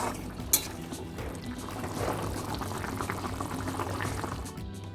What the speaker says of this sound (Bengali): যতটুকু জল দিয়েছিলাম এই জলটা ফুটে উঠেছে